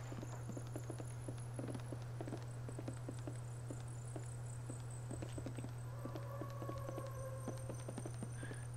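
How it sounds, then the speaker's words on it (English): Footsteps in the video game Rust during a raid tap as quiet, irregular clusters of clicks over a steady low hum, with a faint tone drifting in later. "we can hear the footsteps"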